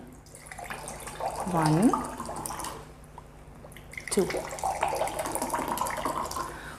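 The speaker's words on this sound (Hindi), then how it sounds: "2 में हम ले रहे हैं घर का आरओ का पानी" Water splashes into glasses twice, each pour rising briefly in pitch as the glass fills, with a quiet gap between; a voice speaks softly alongside.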